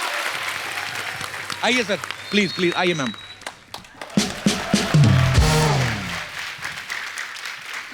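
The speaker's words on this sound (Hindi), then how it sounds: "सो जोरदार तालियां।" Studio audience at a comedy talk show applauding and cheering, loud clapping swelling around a host who speaks over it, fading as the crowd settles.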